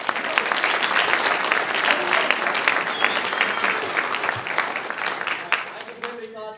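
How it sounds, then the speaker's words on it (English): An audience at a New Mexico military speech competition applauds the speakers and judges with sustained, dense clapping that stays loud throughout and thins out only near the end, with some voices mixed in. "Let's give our speakers and our judges one more round of applause."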